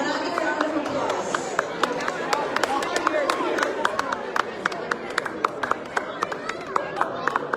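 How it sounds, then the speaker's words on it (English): An audience applauds at a Dhamma Chakra Pravartan Din event, a steady round of many hands with sharp individual claps standing out against a murmur of crowd noise, sustained from start to finish. "Let's celebrate them with another round of applause."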